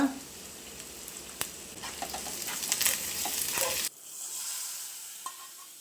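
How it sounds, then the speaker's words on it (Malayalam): Mustard and fenugreek seeds crackle and sizzle in hot oil for a jackfruit seed and mango curry, busy popping and spattering that drops abruptly to a quieter hiss partway through. "എണ്ണ ചൂടായി വന്നിട്ടുണ്ട് ഇതിലേക്ക് കടുക് ഉലുവ ചേർത്ത് കൊടുക്കാം"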